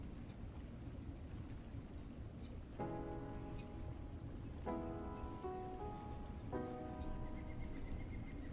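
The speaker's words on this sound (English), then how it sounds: "The rains are coming." Rain falls in a soft, distant patter that runs the whole time. Several bursts of steady electronic tones sound over it at intervals.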